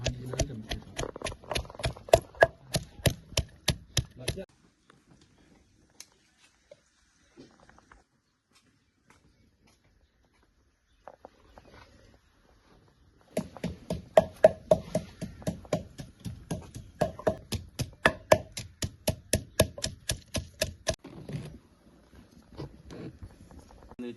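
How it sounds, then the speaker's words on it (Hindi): Green chillies being chopped with a knife for farm-made biryani, heard as rapid, even knife taps on a board in two long bursts separated by a quiet gap, close and fairly loud. "मिर्चा भी इसमें काट देंगे।"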